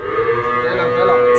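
Cattle mooing at the Vaniyambadi cow market, a loud, sustained bellow close by over a busy crowd background, with no clear speech.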